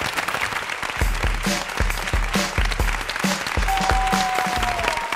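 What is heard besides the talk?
audience applause at game show start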